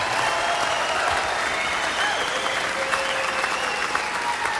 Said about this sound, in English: No, you don't have to clap.